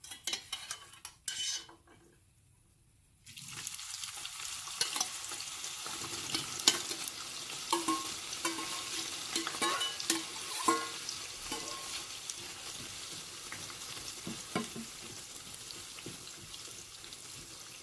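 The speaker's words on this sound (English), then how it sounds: "I am going to fry them in a little bit of deep oil" Onions sizzle and crackle in a quarter cup of hot oil for chicken biryani, a constant frying hiss with occasional stirring clinks, after a brief quieter start.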